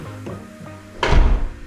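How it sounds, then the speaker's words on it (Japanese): A heavy wooden front door in a newly built house swings and shuts with a solid thud, after a couple of softer creaks and taps from the handle. It is close and moderately loud, with no talk. "ドアはシャネルオリジナルの木製玄関ドアですね。"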